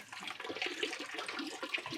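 Water runs steadily through a home water filter system with a DI stage after a diverter lever is turned, giving a continuous, fairly quiet hiss and trickle with no speech.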